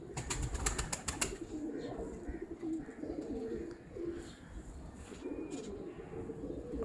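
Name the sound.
pigeons cooing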